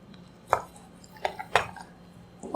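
Knife chopping beef and vegetables for Korean japchae (glass noodle stir-fry) on a board, giving three or four sharp, separate, close-up chops with quiet pauses between them.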